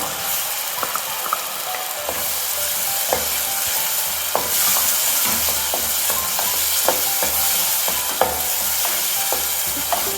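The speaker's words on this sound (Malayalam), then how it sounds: "ഇതിലേക്ക് ഞാൻ ആ പേസ്റ്റാക്കി വെച്ച തക്കാളി ഒഴിച്ചു കൊടുക്കുന്നുണ്ട്." Tomato paste poured into frying masala and stirred, a dense continuous sizzle with sharp, irregular ticks and scrapes of a spatula against the pan, steady and close.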